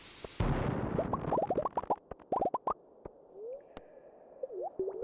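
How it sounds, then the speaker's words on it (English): Bomb explosion in the Stardew Valley mines: a sharp loud blast opens, followed by a scatter of quick popping and plopping bursts of falling rocks, then quieter sparse blips. "Watch out, I'm bombing."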